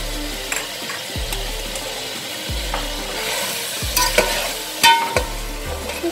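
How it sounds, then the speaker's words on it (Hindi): Spices and black pepper powder being fried for kabsa in a pan, a close sizzle broken by repeated low rhythmic thumps and scrapes of stirring, a few sharper clinks toward the end. "इसको अच्छे से भूनिए"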